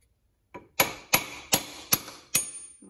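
A hammer drives a bushing into a Quadrajet carburetor through a bolt used as a guide, giving one light tap followed by five sharp, ringing metallic strikes at a steady rhythm, close and clear.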